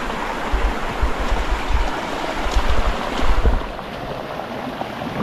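Rushing floodwater after days of heavy, continuous rain, a steady close broadband wash of churning water with low rumbling surges, alone with no voices.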